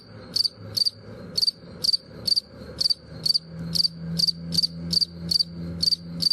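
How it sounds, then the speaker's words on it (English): Crickets chirp in a steady series of short, bright pulses, about two bursts per second over a faint low background hum, with no talking. "Now you heard the sound of the two insects, grasshopper and cricket"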